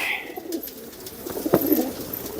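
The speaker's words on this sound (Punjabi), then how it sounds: "ਇਹ ਕਬੂਤਰ ਮੇਲ ਆ" Pigeons coo close by in a few low, rolling calls, with light background noise around them.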